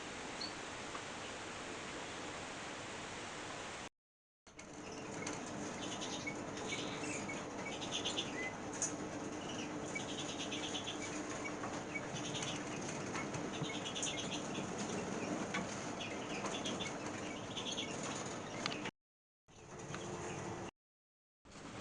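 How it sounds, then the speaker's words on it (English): Birds of the current year flutter and flap their wings in a flight cage set with high and low perches, a steady busy rustle of wingbeats with faint chirps through most of the stretch, broken by brief gaps. "This is another one of the flight cages over to the back corner with some of the current year birds"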